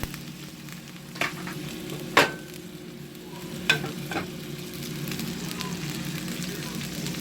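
A frozen hamburger patty fries in a lidded pan with a continuous soft sizzle, broken by a few sharp clanks and taps from the lid and spatula, the frying swelling slightly louder toward the end.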